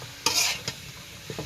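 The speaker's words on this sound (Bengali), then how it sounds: "ভালো করে মশলাটা মিশিয়ে দিতেছি।" Whole potatoes being tossed with spice mix in a pan: a couple of quick scraping stirs with a gentle sizzle underneath, close and brief.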